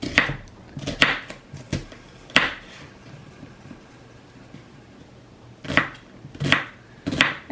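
A knife chops through onion on a home kitchen board while making pasta salad: quick clusters of crisp, close thuds, a long pause in the middle, then another run of chops.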